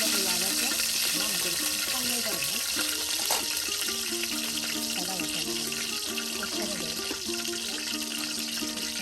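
Ground spice paste of onion, garlic and cumin fries in hot oil in a pan, giving a constant bright sizzle. Someone talks over the sizzle throughout.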